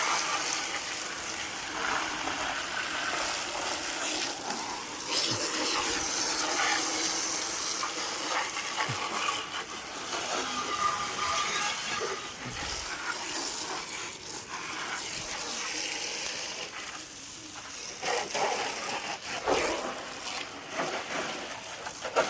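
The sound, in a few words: water spraying from hose onto motorbike during wash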